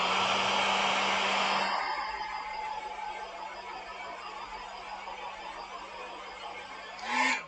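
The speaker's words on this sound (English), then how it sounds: "Way too warm to be putting a hairdryer on." A hair dryer blows loudly in close range while drying paint, then its roar drops to a steadier, quieter whir and swells briefly near the end.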